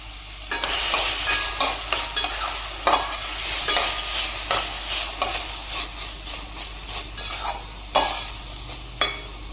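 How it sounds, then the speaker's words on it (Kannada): Chopped onion and tomato fry in hot oil in a pan for ridge gourd curry: a constant loud sizzle runs throughout, punctuated by sharp spatula scrapes and taps, close up, with no voices. "ಆನಿಯನ್ನ ಸ್ವಲ್ಪ ಚಿಕ್ಕದಾಗಿ ಕಟ್ ಮಾಡಿಕೊಂಡು ಸ್ವಲ್ಪ ಫ್ರೈ ಮಾಡ್ಕೊಳ್ತಾ ಇದ್ದೀನಿ"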